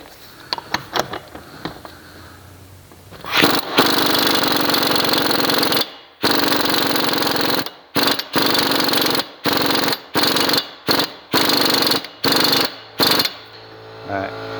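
Compact 3/8-inch cordless impact wrench with an adapter tightening a new front axle nut on a 2000-2005 Buick LeSabre: one long rattling hammering run, then a series of short sharp bursts separated by silent gaps.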